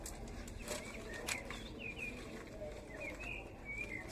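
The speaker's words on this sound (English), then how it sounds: "I love hearing the birds singing." Birds sing outdoors in soft, repeated short chirps and whistled phrases, heard at a moderate distance over a steady background hiss.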